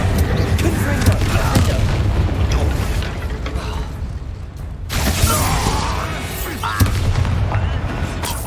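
Confringo blasting spell cast in the Hogwarts Legacy video game, a booming burst that swells abruptly near the middle of the clip amid dense, continuous game ambience and crackling mechanical textures.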